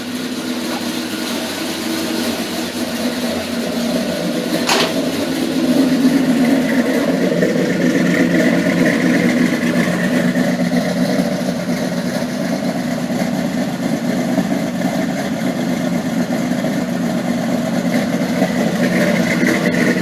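Car engine idling while it warms up, running slightly fast: a steady mid-pitched drone that holds for the whole stretch, with one brief click early on and a faint higher whine above it.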